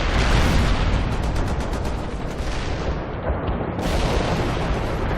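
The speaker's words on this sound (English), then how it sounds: "Artillery strike successful" Artillery strike in World in Conflict, a loud continuous barrage of booming explosions and blasts rolling for several seconds, with a brief dip and then another heavy burst, no talk.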